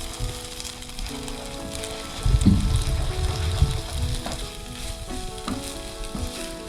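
Eggs stirred into drumstick leaves frying in a pan, a steady close sizzle that swells louder partway through as the mixture is worked, with soft scraping of the spoon and no talk.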